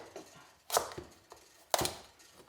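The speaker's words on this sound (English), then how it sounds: "a big knife, because you want to cut it in half as good as you can" A big knife cuts a pumpkin in half, two sharp close chops standing out among softer knocks and scrapes, quiet overall and without talking.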